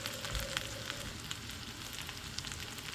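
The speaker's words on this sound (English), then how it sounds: "I'm going to crack some eggs. You can watch that cook." Eggs crackle and sizzle steadily in a hot pan for a breakfast of sausage and potatoes, a dense, even frying hiss with small pops throughout, close up and with no talking.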